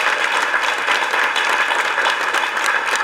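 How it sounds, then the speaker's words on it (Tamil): Audience applause at a Tamil film audio launch for Porkalathil Oru Poo: a dense, sustained burst of many hands clapping at once, steady and loud throughout, with no pauses. "நம்முடைய பலத்தை கைதட்டல் மூலமாக பாராட்டுறோம்."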